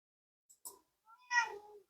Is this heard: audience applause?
no